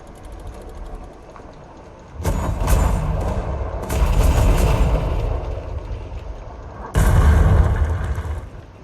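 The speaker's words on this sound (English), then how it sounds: "let's just enjoy some quality gunfire." Heavy booming ship gunfire in the video game Atlas erupts in loud bursts, separated by quieter mechanical rumbling, like cannons firing in rapid volleys.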